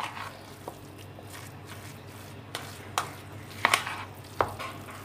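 Minced meat frying with onions as it gets stirred in a pan, a low bubbling sizzle broken by several sharp scrapes and clacks of the spoon, close by, no one speaking.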